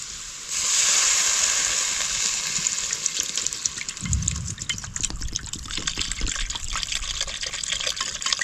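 Water pours steadily into a pan of quail egg gravy cooked in a traditional village kitchen, a loud continuous gush with splashing that lasts several seconds, no talking over it.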